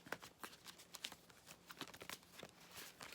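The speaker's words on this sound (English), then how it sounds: "That was a terrible shuffle." Tarot cards being shuffled by hand, a quick run of soft riffling and papery flicks with brief taps, close and fairly quiet, with no talking.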